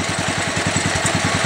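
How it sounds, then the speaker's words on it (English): A C-81 engine, warmed up and burning outboard mixed gas, idles smoothly with a steady, even low putter of regular pulses, close and continuous with no talk. "I got my C-81 running now. You can see it runs really smooth."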